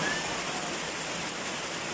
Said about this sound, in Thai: ฝนตกนะอยู่บ้านเฮานะฝนตกนะ